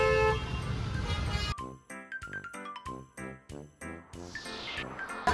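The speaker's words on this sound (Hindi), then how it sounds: "यहाँ पे हॉर्न बजने शुरू हो गए हैं" Vehicle horns honking in short repeated bursts, tonal beeps and toots rising over a steady hum of traffic, fairly close and prominent, with a jingling, tinkling layer mixed in.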